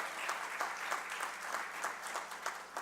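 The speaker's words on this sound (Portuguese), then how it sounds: "a quem eu peço uma grande salva de palmas de incentivo" Audience applause at a lecture on the challenges facing external audit institutions, a steady wash of many hands clapping at moderate distance, fairly even and sustained throughout without speech.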